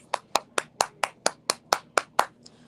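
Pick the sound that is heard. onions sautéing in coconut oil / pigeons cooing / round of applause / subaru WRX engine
round of applause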